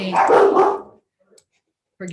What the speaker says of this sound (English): my dogs are hearing something, and they are alerting you